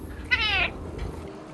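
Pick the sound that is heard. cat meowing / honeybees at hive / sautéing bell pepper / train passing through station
cat meowing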